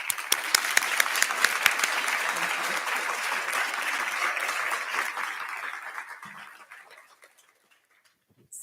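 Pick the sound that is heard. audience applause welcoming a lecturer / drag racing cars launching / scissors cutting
audience applause welcoming a lecturer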